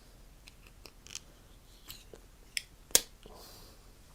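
Small scissors on a vintage Wenger Swiss Army Knife model 939, with a single leaf spring and screw pivot, handled up close: faint scattered clicks and a couple of sharper snips against near silence.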